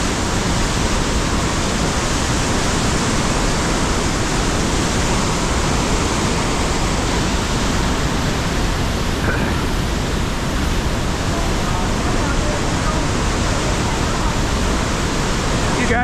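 Ohiopyle Main Falls on the river at high water, a loud, unbroken wall of rushing, crashing water close by, steady from start to finish with no pause.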